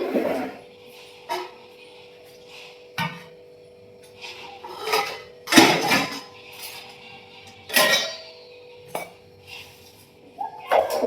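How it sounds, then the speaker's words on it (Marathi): Dishes and pots being scrubbed and washed indoors on a rainy day: irregular clattering of metal vessels, scraping and clinks in separate bursts, close by, with quiet gaps between. "चला आता भांडी घासून घेते घरात"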